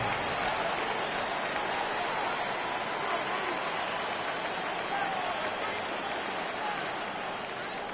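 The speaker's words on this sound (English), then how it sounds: "The crowd cranking it up another notch before 3rd and long." Football stadium crowd at a Chiefs–Bengals game roaring steadily before a third down, a loud, dense wash of noise that never lets up, with a commentator talking over it.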